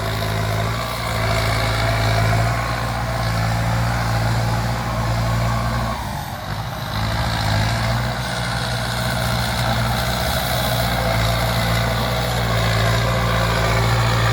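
Six-wheel dump truck reversing along a rough, badly rutted road, its heavy diesel engine droning loud and steady throughout, with a brief dip in the rumble partway through.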